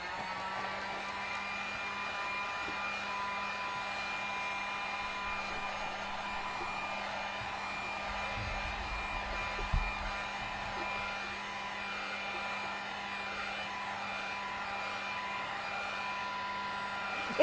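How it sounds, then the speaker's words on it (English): A heat gun blows hot air over polymer clay in a steady, continuous whoosh with a low hum underneath, running alone for the whole stretch. "let's go heat gun and dry this a little bit"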